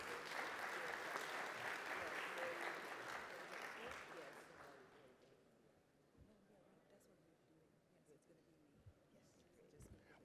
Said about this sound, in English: a round of applause for our new hosts